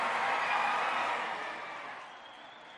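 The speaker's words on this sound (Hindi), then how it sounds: "जोरदार तालियों, जोरदार तालियां।" Applause from guests at an iftar dinner, a dense wash of clapping that swells briefly and then fades, faint and somewhat distant, with no talking over it.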